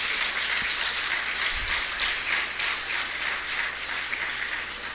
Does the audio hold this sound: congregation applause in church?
yes